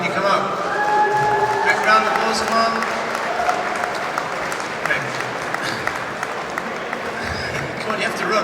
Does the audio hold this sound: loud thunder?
no